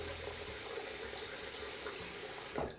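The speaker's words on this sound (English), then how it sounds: "I'm going to add some water to my face. Simpson synthetic knot, soaking in some water" Tap water runs steadily from a faucet into a sink while a face and a Simpson synthetic-knot shaving brush are wetted, a close, continuous splashing flow that ends with a brief louder gush.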